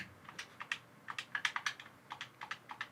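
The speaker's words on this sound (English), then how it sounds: "See how clicky all the buttons are?" Clicky face buttons on an Xbox Elite Series 2 controller, pressed in quick close-up bursts of sharp plastic clicks, some rapid clusters and some single presses, with no talking.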